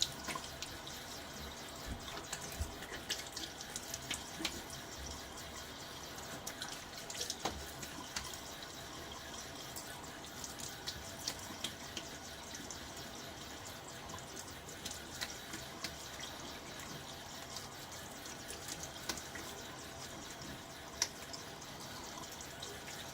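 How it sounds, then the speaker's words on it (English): Faint, steady running water from a tap, with light splashes and drips throughout, as a face is rinsed after a wet shave with a safety razor. "Full rinse."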